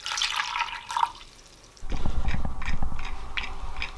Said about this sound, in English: I always pre-wet the paper